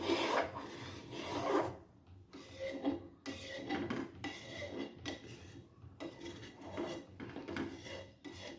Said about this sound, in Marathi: आपल्याला सतत असं हलवत राहायचं आता